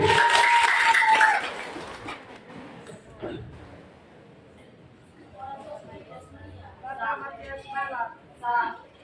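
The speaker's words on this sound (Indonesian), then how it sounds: "Tepuk tangan dulu." Applause from the audience at a savings-and-loan cooperative's board election meeting in Soe, Timor: a burst of clapping near the start that fades into murmuring and talk from the room.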